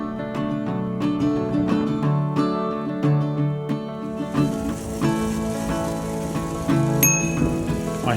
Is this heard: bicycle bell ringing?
yes